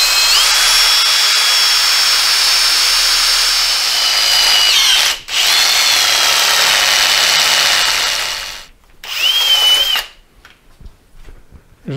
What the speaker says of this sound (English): I'm just going to drill a hole through.